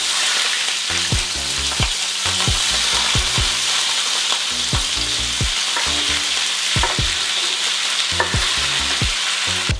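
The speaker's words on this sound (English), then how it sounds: "Love to hear that sizzle." Steady, loud sizzling of shrimp and vegetables frying in a pan, with repeated scraping and clinking knocks as it is stirred, no talking.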